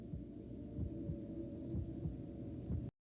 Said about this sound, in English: You hear the heartbeat and everything.